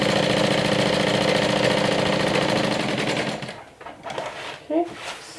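A sewing machine stitches through two fabric pocket pieces, running in a close, rapid, steady mechanical chatter for about three and a half seconds before stopping, after which a voice speaks briefly amid light handling noise.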